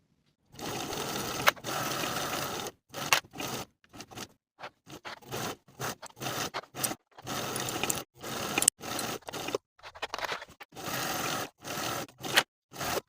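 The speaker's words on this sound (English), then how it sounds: "Then we'll sew from the bottom of one center front with a 3/8 inch seam allowance all around the neckline" A sewing machine stitches a 3/8 inch seam around the neckline of a lined woman's coat, running in many short bursts of varying length separated by brief pauses, close and alone.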